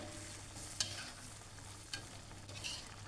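Chopped long beans stir-fried in a pan, a soft steady sizzle with a few sharp scraping stirs and clanks, close up and without voices.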